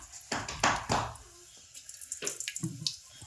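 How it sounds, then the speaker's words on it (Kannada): Cumin and mustard seeds crackle in hot oil as the tempering for a drumstick and spinach sambar is made in a home kitchen. The sizzling and popping come in two close bursts, loud at first and then softer and spattering. "ಇವ ಜೀರಿಗೆ ಸಾಸಿವೆ ಚೆಂದ ಚಟಪಟ ಸಿಗಬೇಕು ರೀ"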